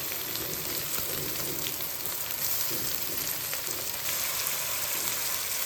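Chopped tomatoes hit hot oil in a frying pan for a fish curry, giving a steady, close hiss of sizzling that carries on evenly for several seconds with no voices.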